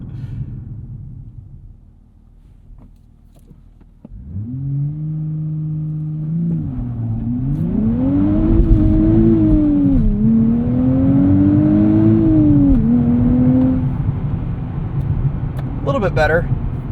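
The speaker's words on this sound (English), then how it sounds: "I think we'll have some good traction for a proper launch control" A 2025 Nissan Z with a twin-turbo V6 and 6-speed manual idles, then launches from a standstill under launch control. The engine note rises through loud, rising rev sweeps with a gear change, close to the car.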